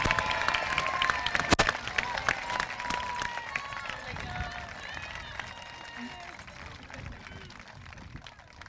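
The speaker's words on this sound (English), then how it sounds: "Let's recognize Mrs. Costa's homeroom with a round of applause" An audience at a school moving-on ceremony gives a round of applause for a homeroom, a crowd of scattered clapping that starts strong and gradually thins out, with some voices and cheers mixed in.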